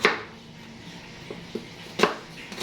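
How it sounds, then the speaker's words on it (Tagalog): A knife slicing onion, garlic and ginger on a cutting board: a few sharp, separate chopping knocks at irregular intervals, close and moderately loud against a quiet room. "Hiwa muna ako ng sibuyas, bawang at luya."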